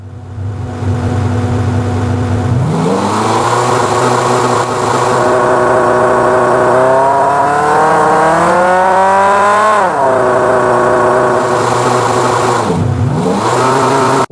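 Car engine sample from the Krotos Igniter plugin, loud and steady, idling before revving up and easing back down, with a second quick blip near the end; no voices.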